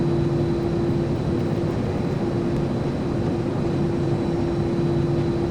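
Airplane engine droning inside the aircraft during a Grand Theft Auto mission, a steady loud hum with a constant tonal whine and no break across the stretch.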